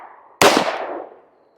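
A single sharp, loud gunshot from a Ruger LC Charger pistol with a threaded barrel firing 5.7x28 Hornady Critical Defense 40-grain ammunition, close up, with a decaying echo trailing off over about a second.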